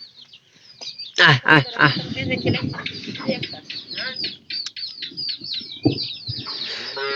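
A hen clucks with her chicks nearby, loud close clucks followed by a run of high, rapid cheeping from the chicks, while a person's voice briefly makes calling sounds.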